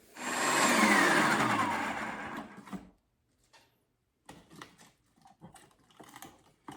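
A food processor slicing cabbage for sauerkraut runs loud and dense for about two and a half seconds, then cuts off, leaving faint scattered clatter and handling noises.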